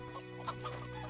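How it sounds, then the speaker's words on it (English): An undead chicken in the video game Xuan-Yuan Sword VII clucks in a few short, soft bursts over a steady hum of game background music. "Undead chicken."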